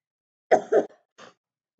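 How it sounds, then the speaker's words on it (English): Two muffled coughs into a hand in quick succession, followed by a brief softer throat sound, close by in a quiet room. "Now I just coughed in my hand"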